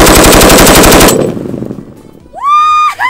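An army weapon fires a rapid burst of loud, close automatic shots for about a second, then a short ringing tail fades out before a rising electronic tone and ear-protection-muffled hum take over.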